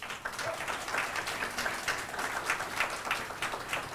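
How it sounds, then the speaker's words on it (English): Applause for young talent and their team at a State of the City event, a fairly quiet, scattered clapping of a modest crowd, slightly uneven in rhythm and heard alone for a few seconds. "Let's please give them another round of applause."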